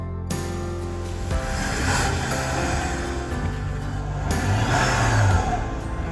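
Supercharged, high-mileage Mazda MX-5 Miata NC engine revving nearby, loud and continuous, with the pitch climbing and falling through several rises and a surge near the end.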